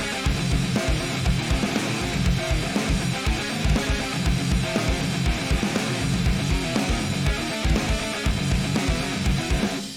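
Distorted guitar riff run through a Guitar Rig amp simulator, two identical parts harmonizing a semitone apart, played with a programmed drum beat; dense, loud and continuous, steady kick pulses throughout, with no talking.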